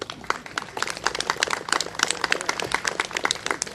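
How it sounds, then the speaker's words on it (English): Dense applause from a crowd at a physical therapy assistant pinning ceremony, many hands clapping steadily and fairly loudly for a few seconds with no voices over it. "a big round of applause for yourselves"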